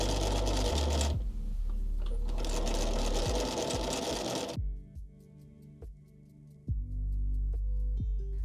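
A sewing machine stitches a cuff to a pant leg, first in a loud continuous run, then in short bursts and single thumping stitches as it slows, close up with no talk.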